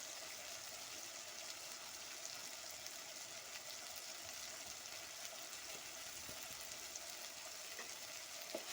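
Mutton mixture frying in a pot and being stirred, a steady close sizzle with faint scraping throughout, no voices.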